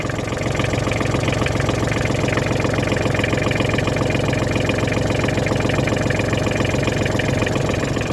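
A Kubota GL241 tractor engine idles in neutral, a close, loud, steady mechanical chug with an even rhythm and no voices.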